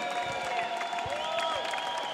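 An audience applauds loudly after a boxing bout between an MMA fighter and a boxing coach, with dense continuous clapping and some crowd noise filling the whole short stretch.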